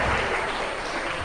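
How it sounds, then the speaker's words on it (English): An audience at a Dallas Christian stage event applauds the performers, a dense, steady wash of clapping that carries evenly through the whole moment without any voices. "Give them a round of applause, everybody."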